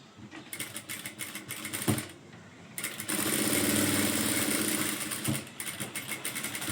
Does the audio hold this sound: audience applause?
no